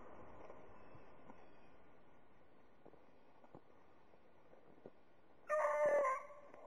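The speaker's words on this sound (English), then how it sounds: "I see the dog can track it in." Hunting dog tracking a shot rabbit outdoors, giving a single short, wavering bay in the distance near the end over a faint, quiet ambience.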